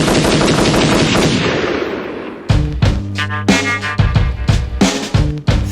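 Rapid machine-gun bursts cut into a hip-hop track, loud sharp cracks firing in quick repeated volleys over a booming beat, following a dense roaring wash.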